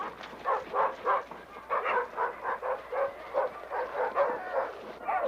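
Sled dogs chained and eager to pull on a Yukon trail yip, bark and whine excitedly in a continuous overlapping chorus at moderate distance.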